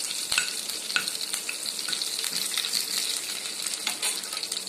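Mustard seeds, cumin, red chilli and curry leaves tempering in hot oil for a lentil-coconut chutney, a bright continuous sizzle with sharp pops and crackles and occasional stirring clicks, close up and without speech.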